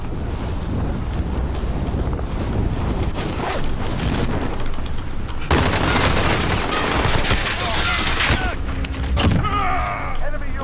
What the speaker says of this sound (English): I didn't know who was shooting at me.